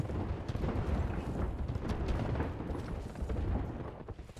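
Grenade explosions in Apex Legends form a dense, continuous low rumble of overlapping blasts and debris that stays loud and churning throughout, with no distinct gaps between detonations.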